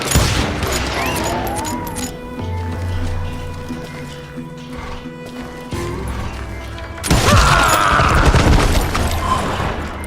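Gunfire in the shooter game Call of Juarez Gunslinger, from a scene involving Pat Garrett's posse: a dense volley of shots grows louder and harsher toward the end over a steady background, with a brief voice early on.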